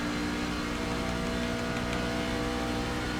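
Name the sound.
truck engine at partial throttle in iRacing video game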